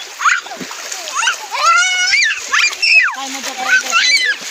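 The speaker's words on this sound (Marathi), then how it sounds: "त्याच्या अंगावर पाणी टाकायला तर." Water splashing in a stream on a nature outing, with several quick splashes and sloshes close by under lively, overlapping children's voices and chatter.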